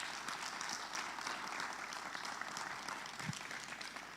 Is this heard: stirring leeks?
no